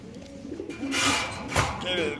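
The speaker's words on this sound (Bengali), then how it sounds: "দর্শক অনেক সুন্দর কবুতর, বড় সাইজের।" Pigeons coo at a crowded pigeon market where birds are sold by the pair, their soft calls rising and falling under steady crowd noise and nearby talk.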